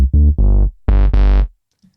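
Logic Pro Retro Synth notes with automated filter resonance: five loud, buzzy synth tones in a short phrase, each bright and rich, with the timbre shifting as the filter peak moves, then silence.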